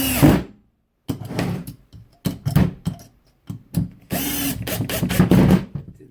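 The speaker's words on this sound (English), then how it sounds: "No problem running screws." A 12V cordless screwdriver from Bosch, Hilti, Makita or Milwaukee M12 driving screws: loud close motor whirs in several short bursts separated by silence, with a longer run near the end.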